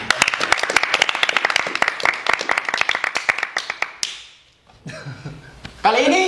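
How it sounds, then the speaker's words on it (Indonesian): Small group clapping at a campus podcast event: quick, sharp, fairly close hand claps in a steady run that stop abruptly, followed by a brief quiet moment and then voices speaking. "Tepuk tangan."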